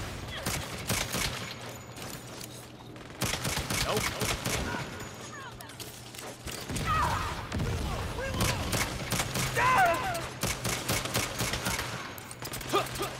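Gunfire from a gun in the game Saints Row, rapid sustained bursts of loud shots crackling over several seconds with brief pauses, with voices talking at times underneath.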